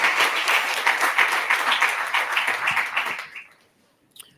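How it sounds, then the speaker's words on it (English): Audience at an annual health leadership summit gives a quick round of applause for the panelists, a dense, steady wash of clapping for about three seconds that fades out, followed by a brief faint knock. "Can we give them a quick round of applause?"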